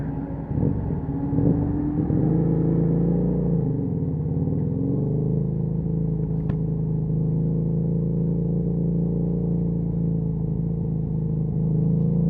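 Motorcycle engine running steadily while the rider, wearing Scoyco MT038WP touring urban boots, moves off in first gear; a loud, close, continuous rumble with a brief dip in pitch early on before settling into an even drone.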